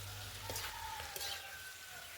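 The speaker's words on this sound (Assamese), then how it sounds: "এইখিনি ভালদৰে ভাজি আছোঁ।" Soaked lentils and boiled potatoes fry in hot oil with a soft, steady sizzle and a few quick crackles and stirring scrapes, quiet and close with no talking.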